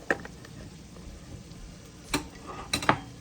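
Onions sautéing in an Instant Pot for shrimp biryani give a faint, low sizzle throughout, with a few sharp spoon knocks near the start and toward the end.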